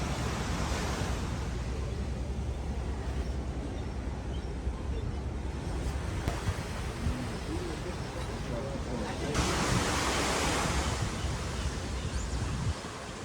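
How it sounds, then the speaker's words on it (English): Ocean surf at Monterey heard from a seafood snack bar balcony on Cannery Row, a constant broadband wash of waves with some wind rumble on the microphone, steady and moderately loud throughout, with no talking. "There's nothing like the sounds of the ocean while eating some really good clam chowder."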